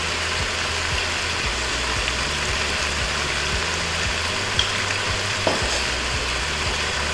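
Pork binagoongan sizzles steadily in a pan while being stirred, with a constant frying hiss and soft repeated scrapes and knocks of the utensil at an even pace.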